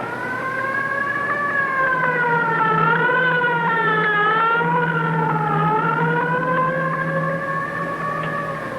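Police car sirens rise and fall together in a steady, overlapping wailing howl, loud and sustained for several seconds with a low engine hum beneath.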